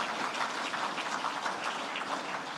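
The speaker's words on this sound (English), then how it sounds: "What about a round of applause again for all of our winners tonight?" Crowd applause for the winners at the Fieldays Innovation Awards evening: a dense, steady patter of many hands clapping together, fairly soft and distant, with no talking.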